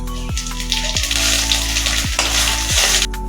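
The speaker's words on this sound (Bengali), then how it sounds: "জিরে, তেজপাতা আর শুকনো লঙ্কা ফোড়ন দিলাম।" Cumin seeds, bay leaf and dried red chilies sizzle loudly in hot oil, a close, bright crackle with several low knocks from stirring at regular intervals.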